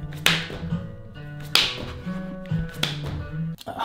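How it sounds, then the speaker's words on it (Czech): Hand claps during clap push-ups, heard as three sharp, close slaps spaced about a second and a quarter apart, each followed by a dull thud of landing, over a low steady hum. "Nebo můžeme dělat kliky s tlesknutím."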